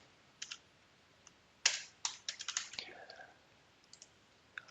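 Computer keyboard keys clatter in short bursts while a short code is typed into a field in Oracle Primavera P6, near and crisp, with a quick run of strokes in the middle and sparse taps around it.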